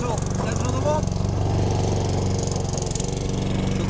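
Lawn mower engine droning steadily in an English garden, a continuous mid-pitched hum running throughout with a voice talking over it.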